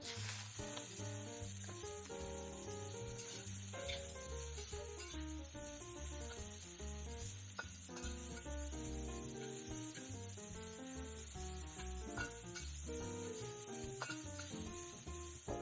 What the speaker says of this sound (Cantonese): 咁啊個鑊咧燒紅晒啦，跟住我哋落1至2圈油啦，爆炒啲芽菜先